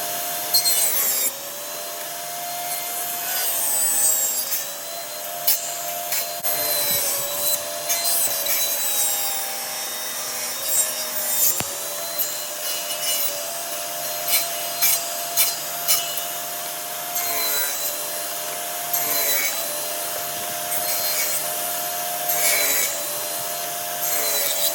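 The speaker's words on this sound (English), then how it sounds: "I'm going to be making my cross cuts" A saw making cross cuts in a wooden board, with a steady whining hum under repeated rasping strokes that come in uneven bursts, close and fairly loud throughout.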